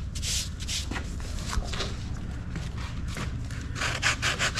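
Fiberglass filler being hand-sanded smooth ahead of gelcoat or paint, giving steady close scratchy rubbing strokes in a continuous back-and-forth rhythm with a brief firmer pass near the end.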